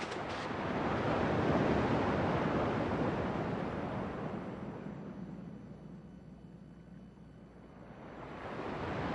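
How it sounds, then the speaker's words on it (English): Ocean waves rolling onto a shore in Kingdom Hearts 2, a broad rushing surge that swells, eases off and builds again, heard alone without talk. "At least the waves sound the same."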